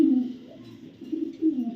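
A male racing pigeon coos close by, a few low, throaty rolling calls with short pauses between them.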